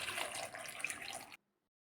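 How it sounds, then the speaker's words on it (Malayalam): Water is poured into a pressure cooker over pieces of yam in a steady, close splashing stream. It stops abruptly after just over a second, leaving silence. "ഇനി കഷ്ണങ്ങൾ വേകുന്നതിന് ആവശ്യമായ വെള്ളം കൂടി ചേർത്ത് കൊടുക്കാം."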